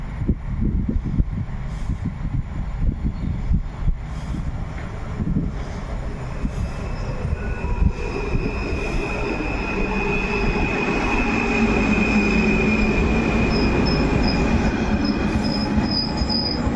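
Trains moving through Łowicz Główny station beside a newly opened platform, with rumbling wheels, clattering over rail joints and high metallic wheel squeal building into a loud, continuous passage without speech.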